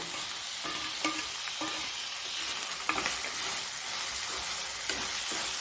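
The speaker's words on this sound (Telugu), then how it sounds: "టమాటా వేసేస్తున్నాను." Tomatoes being added to a hot pan and stirred into frying spices for a cauliflower and soya curry, a soft sizzle broken by several distinct scraping and stirring knocks spaced across the moment, fairly quiet and without talk.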